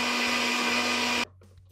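Homgeek mini blender whirring loudly at full speed with a steady high-pitched motor whine while blending a smoothie, then stopping abruptly, leaving faint clicks and handling noise.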